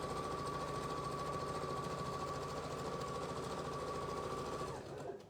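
Sewing machine stitches a quarter-inch seam along a half-square triangle of quilting fabric, a steady close whirring drone with a constant hum that runs nearly five seconds before stopping.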